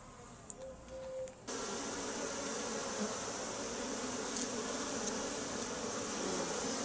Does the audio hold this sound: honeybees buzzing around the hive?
yes